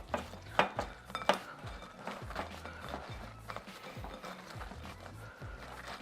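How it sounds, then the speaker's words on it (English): Asparagus being tossed with salt and olive oil in a kitchen, producing busy close rustling and clattering with a few louder knocks against the bowl early on, no talk. "we're just going to mix these up, all right? You want to get that salt and that olive oil to pretty much coat all of this"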